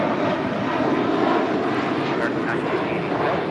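Airliner departing for Miami, a loud continuous jet engine roar holding steady throughout, close by, with faint voices mixed in.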